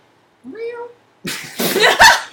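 A voice imitates a black panther's growl and snarl, starting with a short rising cat-like cry, then a loud, breathy, rasping growl that builds to a harsh burst, close to the listener.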